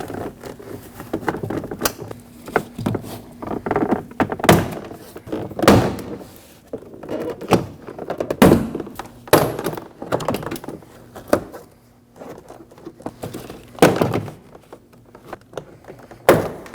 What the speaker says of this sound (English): Now grab the top portion of the door panel and pull it away from the door.